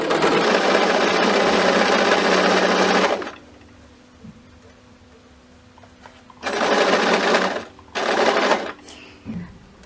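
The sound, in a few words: sewing machine sewing fabric with hemming foot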